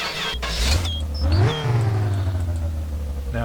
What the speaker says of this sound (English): So then you put your choke in, and you crank it and you pump the gas for a minute.